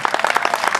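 Studio audience on a television show applauding, a brief burst of dense, rapid clapping from many hands, close and lively.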